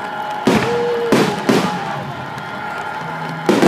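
Fourth of July fireworks bursting with several loud booming explosions spaced irregularly, whistling trails between them and a crowd murmuring underneath.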